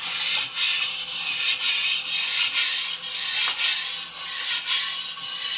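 Antique Dufrense and Co. carbon chef knife sharpened on a whetstone, steady back-and-forth grinding strokes with a rhythmic scraping hiss, close and fairly loud, roughly ten passes with no talking.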